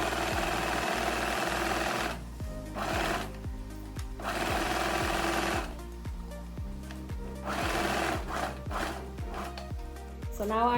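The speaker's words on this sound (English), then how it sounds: "we're going to stitch down to the top of the pocket bag first" A sewing machine stitches a dress pocket bag seam in rapid mechanical bursts, pausing briefly between runs, with its steady motor hum and needle clatter up close.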